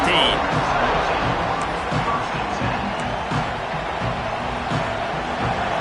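A football stadium crowd roaring and cheering in a steady, loud wall of noise that holds for several seconds, with broadcast commentary voices talking over it.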